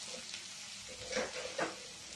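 Tomatoes with a little salt sautéing in a pan for a bitter gourd kara kulambu: a soft, steady sizzle up close with two brief stirring swells, quiet overall and with no talk.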